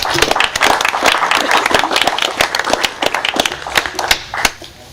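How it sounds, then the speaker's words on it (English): A small crowd at a board of aldermen meeting applauds for about five seconds, steady and fairly close, then the clapping fades out near the end. "Now we can clap."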